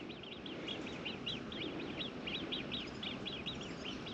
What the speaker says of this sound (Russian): Слышите, как интересно они пищат? Это утки, но они не умеют крякать.